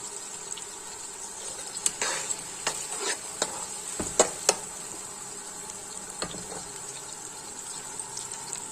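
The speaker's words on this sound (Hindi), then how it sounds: "प्याज को मैं बिल्कुल हल्का सा ब्राउन करूँगी" Onions fry in a pan for a chicken karahi, a constant moderate sizzle with scattered sharp scraping and clinking strokes from stirring, bunched in the middle and near the end.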